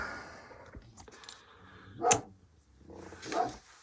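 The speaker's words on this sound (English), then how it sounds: "Now, excuse the dog, someone's outside." A dog indoors barks at someone outside, giving two sharp, loud barks about a second apart with softer yips and whines between, fairly close.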